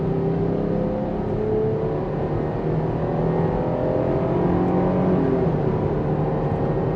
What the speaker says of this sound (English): Let's floor it. I have it in sport mode from a 40-mile-an-hour roll.